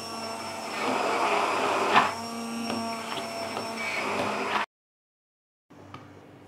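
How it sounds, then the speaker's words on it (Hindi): A kitchen blender whirs loudly while blending eggless mayonnaise with oil, a steady motorized hum with small bumps for several seconds, then stopping, with a brief quieter restart near the end. "फिर दोबारा से ब्लेंड कर लेंगे।"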